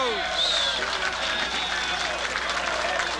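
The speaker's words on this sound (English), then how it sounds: "Gets a roar from the crowd here at Leda Lanes" Crowd at Leda Lanes candlepin bowling alley roaring and applauding for a mixed doubles shot, a broad steady wash of claps and cheers through the whole stretch.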